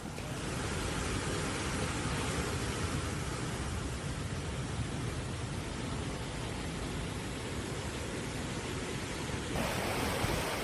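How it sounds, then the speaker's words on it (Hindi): Floodwater pours over an overflowing dam in Spain after heavy rain, a dense, steady roaring rush of water that fills the air evenly for about ten seconds, unbroken and without voices. "स्पेन में भारी बारिश से डैम ओवरफ्लो हो गया है।"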